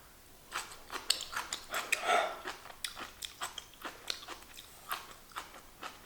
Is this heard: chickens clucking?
no